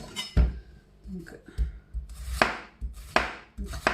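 Onions are sliced into rounds for a Moroccan tajine with a knife on a cutting board, several sharp, close chopping knocks in an irregular rhythm with short pauses between cuts.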